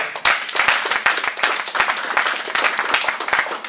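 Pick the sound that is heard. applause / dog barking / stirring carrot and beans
applause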